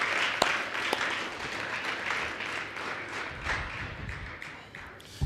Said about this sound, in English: I must give these guys a round of applause.